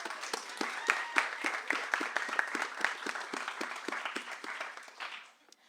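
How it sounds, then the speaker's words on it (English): An audience at a Skylight Books reading event claps steadily, moderately near, then the applause thins out and fades to quiet near the end. "So let's have a round of applause for all of them"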